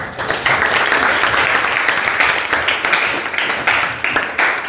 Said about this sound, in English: And so let us give a round of applause.